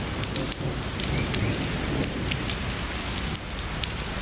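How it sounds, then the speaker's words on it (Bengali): Heavy rain pours outdoors in a rural area during windy weather, a dense, steady hiss of drops beating on surfaces that stays loud and close throughout with no voices. "ভাই বৃষ্টি পড়ছে ভালোই জোরে,"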